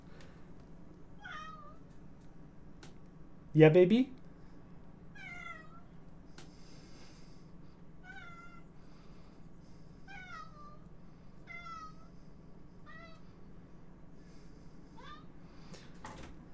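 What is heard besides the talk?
cat meowing, grumbling and muttering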